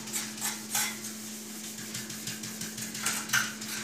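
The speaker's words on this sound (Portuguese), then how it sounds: "Já começou a lixar a frente do fogão, como eu tô mostrando aqui para vocês." A man sands the painted front of a stove by hand, rasping strokes repeating in an uneven rhythm over a steady low hum, close and moderately loud.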